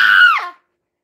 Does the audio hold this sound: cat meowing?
no